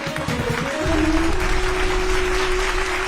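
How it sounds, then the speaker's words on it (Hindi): Audience applauding steadily from start to finish at a loud, close level, with a sustained musical tone running underneath the clapping. "ये जो तालियां आप लोग बजा रहे हैं ना"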